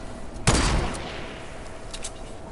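A single loud gunshot or short burst from a video game firefight, a sharp crack with a ringing decay that fades over a second, followed by quieter distant pops.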